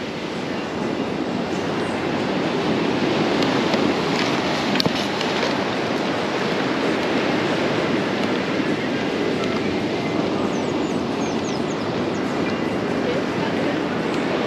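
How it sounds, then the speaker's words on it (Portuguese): A continuous, heavy roar of rough surf fills the air at a beach, waves churning and crashing without pause, loud and steady throughout. "Mas o mar tá bem agitadão."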